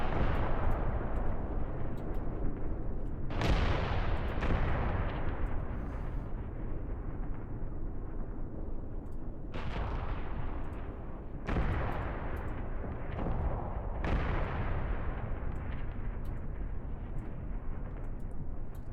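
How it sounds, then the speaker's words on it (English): Artillery shelling rolls through a Graviteam Tactics battle: a constant low rumble broken by about half a dozen heavy blasts that hit at irregular intervals, each dying away in a long booming tail. "Lots of artillery falling on our boys up here, unfortunately."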